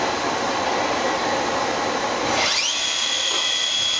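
A Tsugami BS-20B Mark III CNC Swiss lathe runs its sub spindle at 5,000 RPM, a steady high-pitched whine and airy machine hum, with one tone sweeping upward partway through and settling into a sustained pitch.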